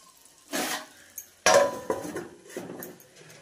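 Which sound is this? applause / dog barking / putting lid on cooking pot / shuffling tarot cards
putting lid on cooking pot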